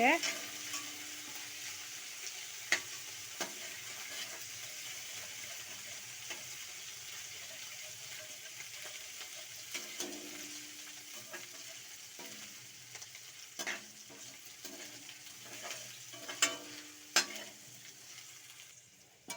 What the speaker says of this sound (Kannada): ಕೊತ್ತಂಬರಿ ಕರಿಬೇವು ಬೆಳ್ಳುಳ್ಳಿ ಶುಂಠಿ ಪೇಸ್ಟು ಎಲ್ಲ ಹಾಕಿ ಫ್ರೈ ಮಾಡಿ ಎಣ್ಣೆಯಲ್ಲಿ